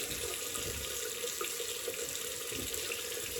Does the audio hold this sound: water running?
yes